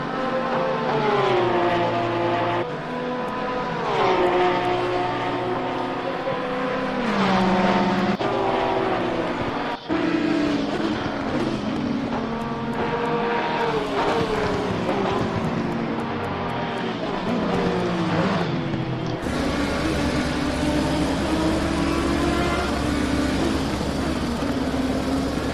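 Porsche race cars lap the Misano circuit in close company, their engines making a loud, sustained whine that rises and falls through repeated gear changes and a sudden shift in tone near the end.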